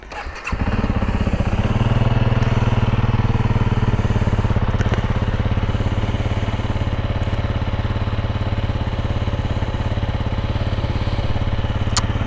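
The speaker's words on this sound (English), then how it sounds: "We'll just leave off with a little exhaust noise." A 2021 CRF300L Rally motorcycle exhaust idling steadily after starting, a low rhythmic rumble, close and continuous with no talking.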